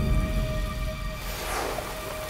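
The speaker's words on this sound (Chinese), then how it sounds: "这雨还下着呢， 下雨好啊，老天爷都在帮咱们。" Steady rain falls across a quiet outdoor scene, a soft even hiss with faint scattered drops, moderately loud and unbroken throughout, with no voices over it.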